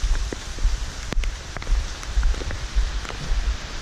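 Steady rain pours down with a dense, even patter of drops close by, continuous and fairly loud, with a few sharper individual drips and no voices.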